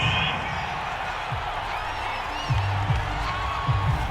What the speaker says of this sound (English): Well, the Crowd doesn't like that.